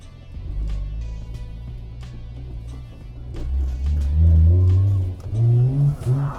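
A car drifting in a controlled slide around a race track circle, engine droning low then climbing into loud revving bursts as the throttle is pressed, close and continuous with no speech.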